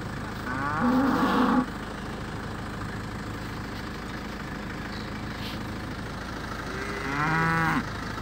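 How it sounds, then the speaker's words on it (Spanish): Cattle in a livestock pen, cows and bulls giving two loud, drawn-out moos near the start and end, over a steady low engine idle rumbling in the background. "Pues aquí estamos, entre vacas y toros."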